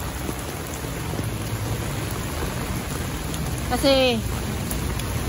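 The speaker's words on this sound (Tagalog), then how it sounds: "Kaya pag tuwing umuulan, pag may lumalakas, hirap na nga i-vlog natin." Heavy typhoon rain pouring down in the afternoon, a loud, dense, steady hiss of drops hitting surfaces throughout, while a person speaks briefly near the end.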